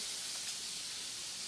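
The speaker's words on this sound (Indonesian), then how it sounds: "jadi kalau ada noise itu suara goreng ikan asin." Salted fish frying in a pan gives a steady, even sizzling hiss that stays constant throughout and is fairly faint, with no voices.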